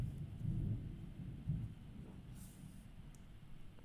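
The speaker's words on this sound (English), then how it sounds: "Rolling thunder." Distant rolling thunder rumbles low and soft during a mid-morning storm, with slow swelling surges and faint background hiss, no speech.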